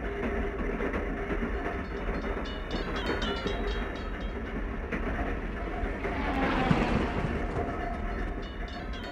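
A North Shore electric interurban train rolls steadily across the Chicago and Northwestern tracks at Racine Junction, a continuous rumble with rhythmic wheel clatter over the crossing and a brief louder burst partway through.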